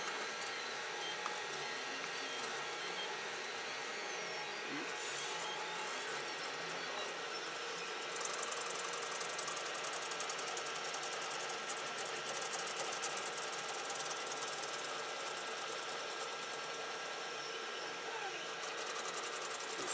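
A 3D printer works steadily on a vented power supply unit part, a continuous mechanical whir with faint stepping tones throughout, quiet and unbroken over the full stretch.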